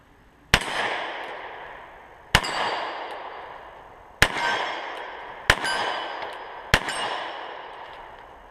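Five sharp 9mm shots from a Beretta Elite II pistol ring out at an outdoor range, each crack followed by a long ringing echo as rounds strike steel targets set at different distances.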